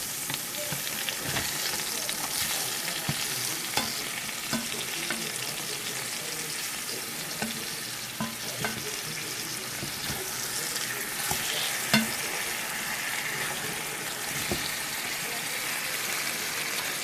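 Food sizzling steadily in a hot pan just after being flipped, a continuous bright hiss with scattered pops and occasional light scraping of a utensil, close and even throughout.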